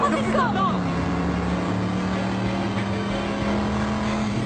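A car speeds along in a 2015 French drama film, its engine droning in a steady, loud hum with road rumble, no clear speech over it.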